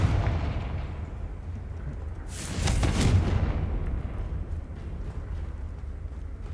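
A Confringo blasting spell goes off in Hogwarts Legacy, a loud burst of explosive noise lasting about a second that rises over a steady rumble of game ambience.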